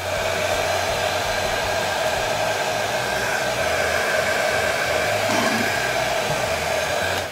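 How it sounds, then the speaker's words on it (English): A hair dryer blows steadily and loudly at close range while drying a Zvezda plastic model kit of a Soviet machine gun, a constant whooshing motor roar with no speech. "First step, a little with the air dryer."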